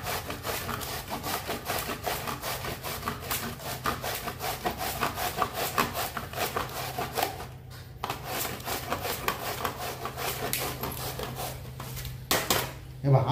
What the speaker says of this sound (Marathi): आता भोपळा आपण अशा प्रकारे किसून घेऊ सगळं भोपळा